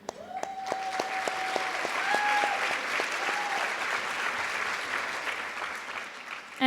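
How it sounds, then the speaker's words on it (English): An audience at a family strengthening summit applauds, a steady, dense wash of clapping that holds for several seconds. "we want to applaud home visitors and clients"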